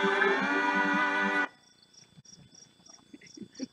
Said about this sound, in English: The crickets are singing.